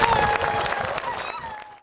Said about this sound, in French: Applaudissez très fort pour vous.